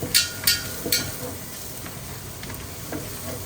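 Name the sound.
stirring garlic granules in a pan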